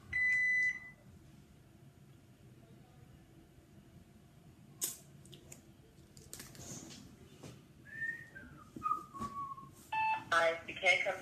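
An answering machine gives short electronic beep tones, a clear one at the start and more near the end, set among quiet background noise and a faint voice.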